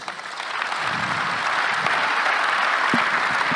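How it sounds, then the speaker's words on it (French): Sustained audience applause after a speaker is thanked at a French business talk, steady and dense throughout with no talk over it. "Merci Geoffroy, vous pouvez l'applaudir."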